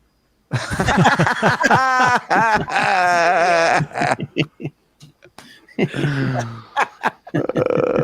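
A man lets out a run of long, loud, voiced burps in quick succession close to the microphone, and a few chuckles follow between them.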